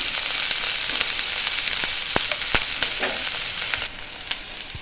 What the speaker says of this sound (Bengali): আমার ওই তেলের মধ্যেই আমি দিয়ে দেব এখন কিছুটা পরিমাণ রসুন কুচি, কিছুটা আদা কুচি, কিছুটা লঙ্কা কুচি